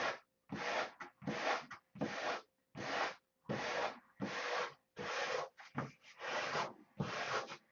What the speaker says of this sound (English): When you're trying to sand an airfoil, you sand in an X,